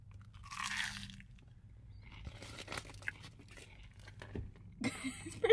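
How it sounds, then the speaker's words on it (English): Crisp crunching bites into a crunchy Taco Bell chalupa, a few close, sharp crackles spread out with quiet chewing between them. "it's like a really crunchy chalupa"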